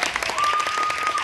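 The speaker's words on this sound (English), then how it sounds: "And we'll hear a round of applause" A round of applause from a live storytelling audience, a short dense burst of clapping that stays steady and fairly loud for about a second.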